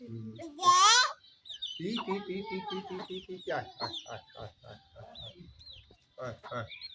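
A chicken clucks in short bursts near the microphone, with a child and an adult talking around it.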